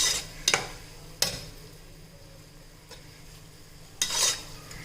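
Spices fry gently in a pan for mutton tomato soup, a low steady sizzle broken by a few sharp scrapes and knocks of a utensil against the pan.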